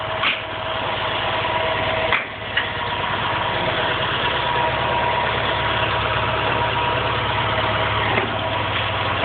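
A cold-started SS/16 or Suburban 12 engine idles steadily and loudly up close, a continuous even drone with a brief dip near the start and no talking.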